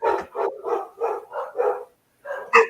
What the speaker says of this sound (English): Just Candy's dogs